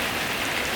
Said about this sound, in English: You hear the thunder coming down, the rain is pouring.